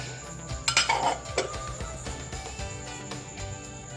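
Eggs with dry spices are whisked in a bowl, giving light clinking and tapping strokes of utensil against the dish, close and fairly quiet, with no talk.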